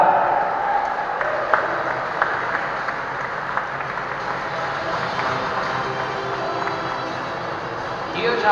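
Sustained audience applause at an Arabian horse show, steady dense clapping from a large crowd, with a voice talking over it throughout.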